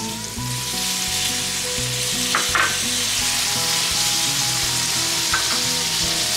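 Tomatoes with garlic and aromatics sautéing in a pan for kinhason with coconut milk, a loud continuous sizzle and crackle close up, with a couple of brief utensil clinks over a low steady hum, no voices.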